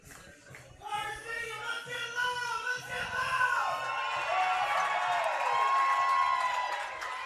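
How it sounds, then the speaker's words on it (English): A baseball crowd at a PGCBL West Division championship game cheers and whoops, the noise swelling and then holding steady at a moderate distance, with scattered claps and whistles as it builds. "Can hear the crowd loud and clear from here on that."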